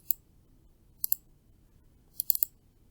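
Sharp computer mouse clicks while importing an Excel file into RapidMiner: a single click, another one a second later, then a quick burst of three or four clicks, each crisp and close against quiet room tone.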